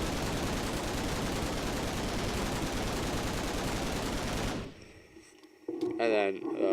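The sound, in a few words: gun firing in Minecraft FlansMod video game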